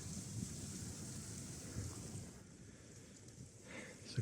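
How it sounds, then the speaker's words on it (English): Wind gusting across a riverbank on a mild, overcast day of pike fishing, a steady broadband rush with fluctuating buffeting on the microphone, continuous and fairly faint, no voices. "As you can see, the wind's blowing through."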